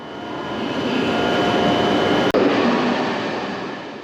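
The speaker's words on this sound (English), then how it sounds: "waited for my Shinkansen, the famous high-speed Japanese train" A steady, rushing rumble of a Japanese Shinkansen high-speed train in motion, heard from inside the carriage, with one brief sharp click midway.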